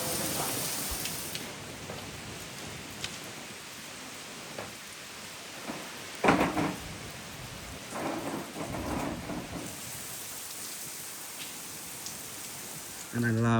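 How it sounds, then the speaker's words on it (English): Heavy tropical rain pours steadily in Krabi, Thailand, a dense close hiss with rumbles of thunder and splashing bursts, while a voice speaks now and then. "It is properly raining."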